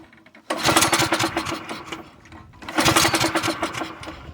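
A small go-kart engine tries to start with choke and throttle, giving two loud, close bursts of rapid sputtering putter, each lasting over a second before dying away.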